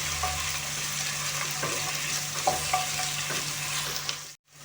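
Steady sizzling of eggplant and peppers stewing in a pan over medium heat, with occasional soft clinks of stirring; the sound cuts off abruptly near the end.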